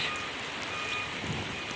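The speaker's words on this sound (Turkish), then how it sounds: "Bu İzmir'de bak bakın gene yağmur başladı görüyor musunuz?" Rain falls in İzmir as a steady, dense patter of drops on surfaces, close and even throughout the short stretch with no voices.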